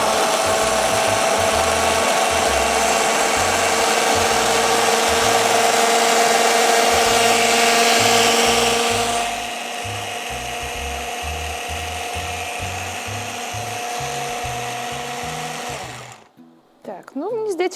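A blender blending gazpacho soup whirs steadily and loudly, its pitch shifting partway through, then cuts off near the end; a low rhythmic pulsing runs underneath.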